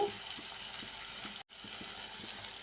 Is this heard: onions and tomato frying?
yes